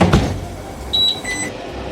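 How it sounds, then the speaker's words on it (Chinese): A steam oven is loaded with a squid and meat patty and switched on: a soft thud of the door or tray, then a few clear electronic beeps from the control panel, close and dry. "那我们现在开始蒸，直接放入蒸箱里面，大火蒸12分钟"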